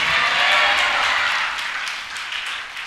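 A church congregation clapping hands, a dense wash of many claps at once, loud at first and gradually thinning and fading.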